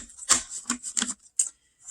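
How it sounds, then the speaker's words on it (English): A deck of tarot cards is shuffled close by in a series of quick riffling bursts and soft taps, separated by brief pauses, with the last burst trailing off into quiet. "I want to get a good shuffle here for you"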